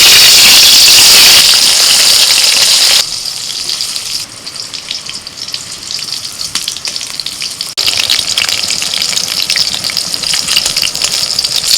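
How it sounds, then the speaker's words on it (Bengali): Pieces of pointed gourd coated in salt and turmeric fry in hot oil for a vegetarian thali, making a steady, loud sizzle that drops and then rises again partway through. "পটলে লবণ হলুদ মাখিয়ে রেখেছিলাম প্রথমে পটলটা ভেজে"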